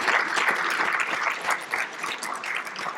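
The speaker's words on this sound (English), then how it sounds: "More applause is better than less, right, Aaron?" Audience applause at a conference luncheon, sustained clapping from many hands filling the room for about three seconds with no voices over it.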